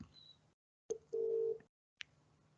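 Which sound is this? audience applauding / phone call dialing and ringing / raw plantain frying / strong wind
phone call dialing and ringing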